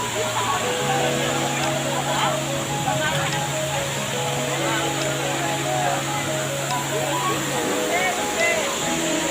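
Lumum Waterfall near Bhalukpong, Arunachal Pradesh, rushes in a steady loud roar through the whole stretch, with rain falling and a low droning hum underneath.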